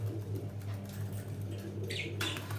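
Budgerigars in a home breeding cage give faint chirps and soft calls, quiet and intermittent over a low steady hum, with no voices.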